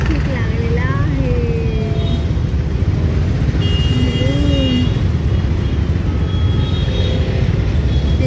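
Traffic jam on a highway on a road trip from Ahmedabad to Nagpur, with a loud, steady rumble of idling and creeping vehicles, scattered horn toots near and far, and voices in the mix.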